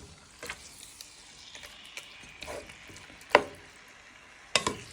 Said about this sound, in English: and breaking them apart with the wooden spoon.